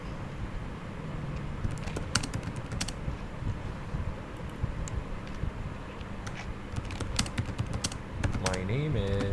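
Typing on a computer keyboard, a close run of quick irregular key clicks with short pauses, with no talk heard.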